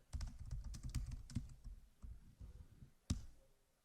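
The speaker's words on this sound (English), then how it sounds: "Look at my typing speed." Rapid typing on a computer keyboard during a talk on the C64 disk magazine LOADSTAR, with bursts of sharp key clicks in uneven rhythm and one louder clack near the end, close and fairly quiet.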